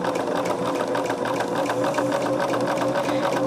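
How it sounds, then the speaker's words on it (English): A sewing machine runs steadily, stitching a quilt row at a quarter-inch seam, its rapid mechanical whir continuous and close with no pauses. "But we are sewing this at that 1/4 inch."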